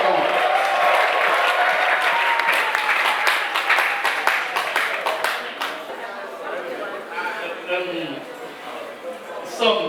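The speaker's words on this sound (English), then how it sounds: "Please a round of applause." Audience at a two-day agricultural summit in Owerri breaks into sustained applause, dense clapping and crowd chatter that gradually thins out toward the end.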